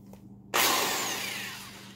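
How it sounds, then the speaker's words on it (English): A power drill bores a hole through the metal lid of a mason jar, starting abruptly partway in with a loud, steady whine that slowly fades as it cuts. "I'm going to drill a hole in the top of this can"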